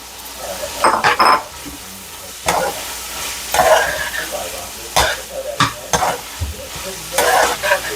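Okra stir-fries with spices and black pepper in a pan. Loud spatula scrapes and clatters come in uneven bursts over a low background sizzle, close up and with no talking.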